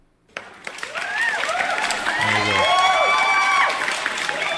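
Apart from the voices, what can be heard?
applause sound effect played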